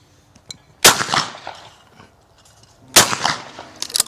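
Two loud, sharp shotgun blasts at a clay pigeon shooting range, about two seconds apart, each with a short echoing tail in the open air.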